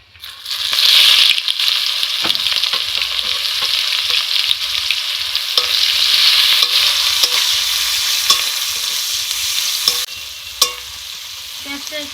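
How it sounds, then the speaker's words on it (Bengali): Chopped onion frying in a pan of hot oil with black cumin seeds and dried red chilli, a steady loud sizzle running throughout with occasional utensil taps and stirring scrapes. "এর মধ্যে পেঁয়াজ কুচিটাকে দিয়ে দেবো"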